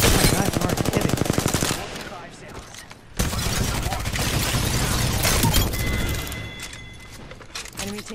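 Rapid automatic weapon fire in the battle royale shooter Apex Legends, loud dense bursts of shots with explosive impacts and in-game effects, while players talk over the action.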